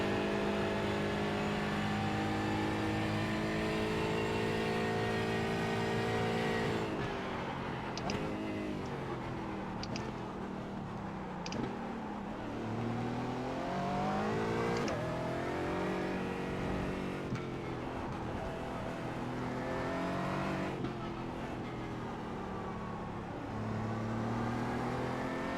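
Race car engine in the iRacing sim at Iowa, held at half throttle down a straightaway: a loud, continuous buzzing drone with shifting pitch, brief dips and surges as other cars roar past.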